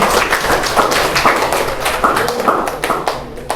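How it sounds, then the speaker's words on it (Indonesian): Classroom applause after a group's teaching practice presentation, a dense patter of hand claps sustained steadily throughout, fairly loud and close. "Tepuk tangan."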